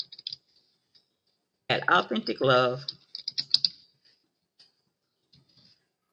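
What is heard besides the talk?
typing on a computer keyboard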